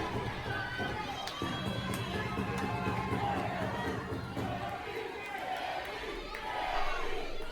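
A wrestling crowd cheers and roars in a continuous, fairly distant wash of noise with scattered shouts rising through it.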